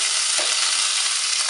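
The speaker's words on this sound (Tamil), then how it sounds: "வெந்தயம் நல்லா பொரிஞ்சதுக்கப்புறம் பச்சை மிளகாய், கருவேப்பிலை," Green chilies and curry leaves hit hot oil with fried fenugreek seeds, producing a loud, dense, continuous crackling sizzle, close up and steady, with no talking.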